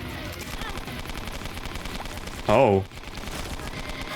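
Modded shooting sound in The Binding of Isaac: Repentance, a single short metallic clang like a struck frying pan ringing out loudly over steady background game noise, with someone briefly speaking.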